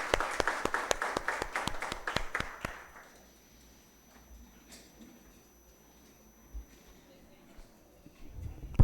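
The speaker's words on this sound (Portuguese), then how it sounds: "Pedimos a todos uma salva de palmas bem forte para..." A strong round of applause in a municipal council chamber during an ordinary session, loud dense clapping for about three seconds that stops abruptly, leaving quiet room noise with faint shuffles and a soft voice afterward.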